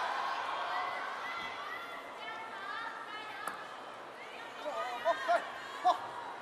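Crowd in a table tennis arena at a WTT China Smash men's singles semi-final stirring with a diffuse murmur of chatter, then a few sharp louder bursts near the end, under commentary.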